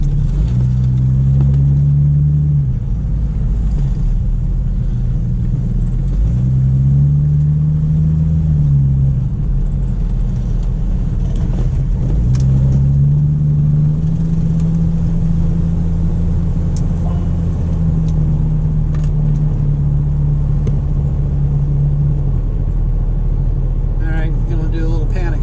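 A Jeep YJ with a freshly swapped GM brake booster drives along, its engine droning loudly and rising and falling in pitch as it accelerates through repeated gear changes, with a voice talking over it.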